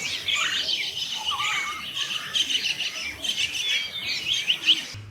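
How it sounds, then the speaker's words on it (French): Exotic birds call in an Asian jungle scene, with bright chirps, whistles and squawks close and lively over a faint background of insects. "j'ai voulu rajouter des effets sonores d'oiseaux, des oiseaux exotiques"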